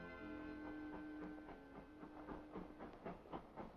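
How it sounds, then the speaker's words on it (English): A train rumbles through York station in 1953, a steady low roar with rhythmic clicks and bursts building toward the end, close by and continuous with no voices. "It must have shaken the old walls when the first trains came rumbling through."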